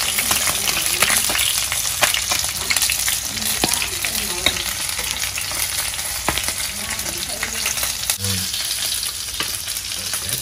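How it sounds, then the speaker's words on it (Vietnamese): Small fish frying in a pan of hot oil, a steady dense sizzle with crackling pops running continuously throughout at close range, no talk over it. "Từ đây chiên rồi nó."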